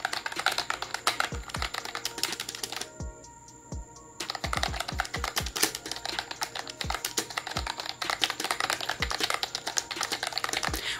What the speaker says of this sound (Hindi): यहाँ पर इस टाइप की ही साउंड होती है क्योंकि ये मेम्ब्रेन कीबोर्ड है